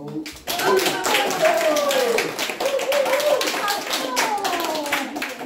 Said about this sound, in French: Alors, on peut les applaudir.